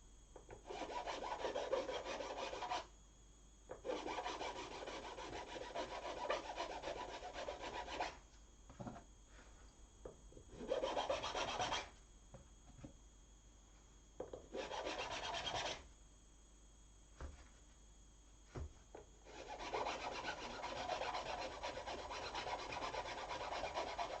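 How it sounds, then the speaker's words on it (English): Rhythmic rasping strokes of a file cutting a string slot into a bone guitar nut, close and clear, in bursts of several seconds separated by short pauses. "we've got our nut slot cut, ready to go"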